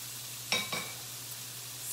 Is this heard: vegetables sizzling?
yes